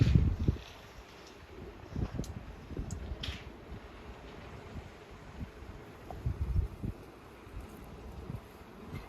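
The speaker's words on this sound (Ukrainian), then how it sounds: "дуже сильний вітер, навіть тут знизу відчувається" Strong wind buffets the microphone in uneven gusts at an 80 kW solar power station installation site, producing deep rumbling bursts that rise and fade with no one speaking.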